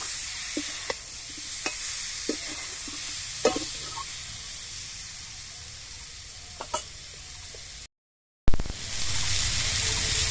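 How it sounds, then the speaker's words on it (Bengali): Potatoes frying for a fish curry with raw mango, a soft steady sizzle broken by sharp clinks and scrapes of a spatula stirring in the pan, close up, with a short silent gap before the sizzle resumes louder. "একটু ভালো করে নেড়ে নিচ্ছি।"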